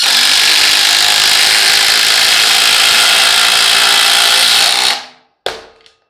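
DeWalt Atomic and Ryobi 4 Mode impact drivers drive 5-inch SPAX screws into wood, a loud, continuous rattling whine from both tools running together that cuts off abruptly, followed by one short final burst.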